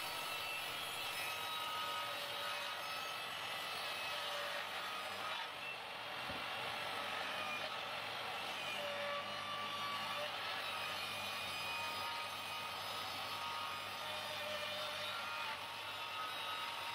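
A saw rips wood pieces into two lengthwise, a loud, steady, close whining roar of the blade cutting through wood that continues unbroken with only a brief dip, no talk.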